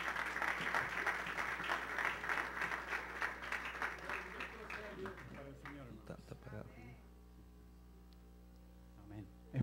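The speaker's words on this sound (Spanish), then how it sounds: "Démosle un fuerte aplauso a nuestro hermano Rafael Barahona" Applause rises for a man being welcomed forward during a church communion service, fairly faint and steady before thinning out and fading into quiet room hum near the end.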